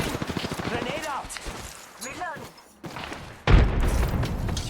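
Gunfire and a grenade blast in the Apex Legends shooter, with players talking over it in French and English. Rapid shots run under the voices, then a sudden loud burst of explosive noise closes the clip.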